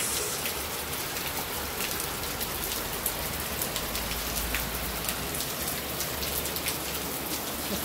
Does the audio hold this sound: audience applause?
no